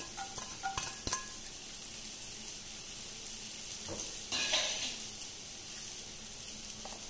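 Garlic sizzles in coconut oil, a soft steady frying hiss punctuated by several metallic clinks and taps of a utensil against the pan.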